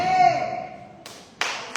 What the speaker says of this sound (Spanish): Y sí se vale el aplauso a Cristo, hermano